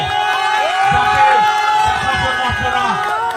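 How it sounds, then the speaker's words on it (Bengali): A crowd at a Bengali New Year stage program cheers and claps for an arriving Tollywood actor. A dense, loud, continuous roar runs throughout, with shouts and whoops layered over it. "জোরে হাততালি দিয়ে চিনবে"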